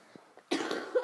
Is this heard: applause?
no